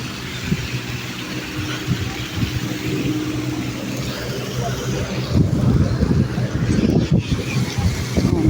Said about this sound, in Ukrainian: А, то там траву косе. Я, я думаю, що ж воно гуде.